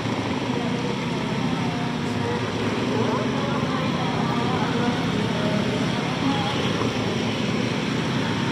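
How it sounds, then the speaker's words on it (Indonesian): Slow, congested road traffic near Padang beach, at the Hang Tuah junction on an early-evening holiday, forms a dense, steady roar of engines and tyres that runs unbroken and evenly loud from start to end. "Lalu lintas ke arah Purus itu padat merayap."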